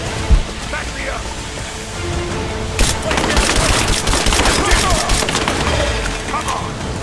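Sustained covering gunfire in the video game Rise of the Tomb Raider: rapid automatic bursts crackle loudly and continuously from the middle onward, layered under shouted voices and dense combat noise.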